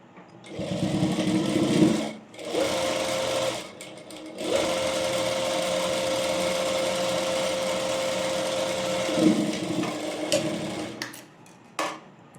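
Sewing machine stitching a half-inch seam on an A-line frock, running in steady continuous bursts with brief pauses between them, close and fairly loud, with no talking.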